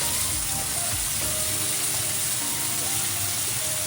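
Ground cumin paste fries in hot oil in a pan with a constant close, loud sizzle, and faint stirring scrapes show through the hiss.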